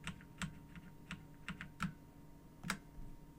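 Typing on a computer keyboard, a quick uneven run of soft key clicks at close range over a quiet background.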